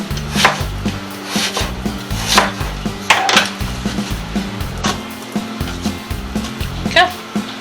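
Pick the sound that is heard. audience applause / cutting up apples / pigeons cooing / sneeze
cutting up apples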